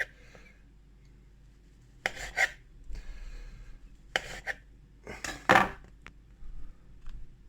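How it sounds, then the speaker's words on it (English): Knife slicing through a block of homemade pea protein seitan (peawheat) on a board, three or four short, crisp cuts with scraping contact, fairly close and moderately quiet, with quiet pauses between strokes. "Now you can cut this up however you like. I like to slice mine."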